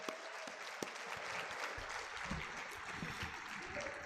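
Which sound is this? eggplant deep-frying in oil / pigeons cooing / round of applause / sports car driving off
round of applause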